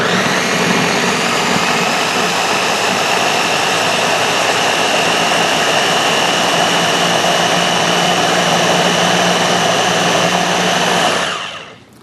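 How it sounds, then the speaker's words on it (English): Ninja blender whirring loud and steady at full speed while making a smoothie, a dense unbroken motor roar that runs for about eleven seconds and then cuts off abruptly. "This is my Ninja. Turn it on, and off we go."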